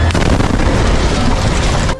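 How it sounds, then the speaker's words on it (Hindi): Loud, continuous blasts and rumbling booms from an Israeli military bombing strike in Gaza, a dense, sustained barrage of explosions with no pause, heavy low-end roar throughout, cutting off abruptly at the end. "जिसमें कान के पर्दे फाड़ देने वाले तेज धमाके होते दिखे।"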